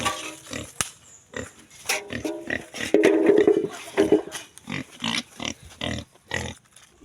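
Pigs grunting and oinking steadily at a farm in San Fernando, a close, busy chorus of snorts and squeals at feeding time that swells in the middle, with brief voices among them.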